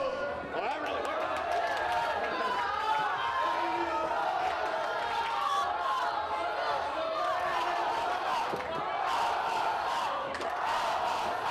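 Wrestling crowd at an independent wrestling show roaring and shouting in support of Aiden Prince, a busy swell of cheers and yells from a packed room with commentary voices running underneath.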